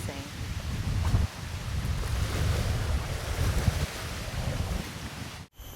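Water washes and laps along the shore at Sungei Buloh nature reserve in Singapore as a continuous rushing wash, with wind buffeting the microphone, until the sound cuts off abruptly at the end.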